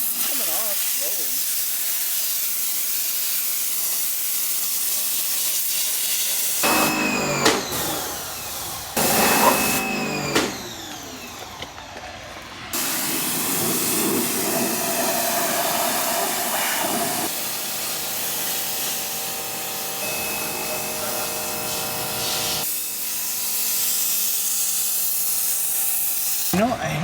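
A pressure washer blasts grime off Cedric in long, loud hissing sprays, with brief cut-offs and restarts between bursts, while a person talks over it.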